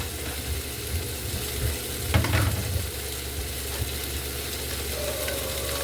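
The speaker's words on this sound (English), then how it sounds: "those are getting a good sear on it" Venison and vegetable pieces searing in a hot pan give a steady low sizzle throughout, with a brief louder burst of stirring or scraping partway through.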